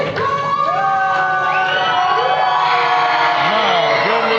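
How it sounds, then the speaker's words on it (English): Arena crowd at a grappling event cheers and shouts loudly and continuously while the reigning champion is introduced, with sirenlike rising and falling tones and an announcer's voice cutting through the roar. "This crowd just come alive"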